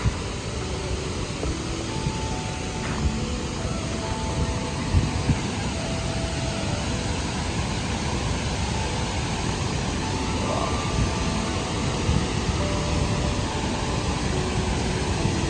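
A drone taking off near a river, a steady broadband whir of rotors, constant and fairly loud throughout with no voices.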